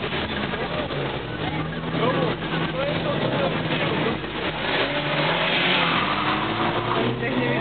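Tuned car engine revving hard at a tuning meet in Svidník, a steady loud roar with rising and falling pitch over the whole stretch, crowd noise and voices mixed underneath.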